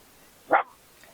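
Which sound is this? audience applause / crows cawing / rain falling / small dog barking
small dog barking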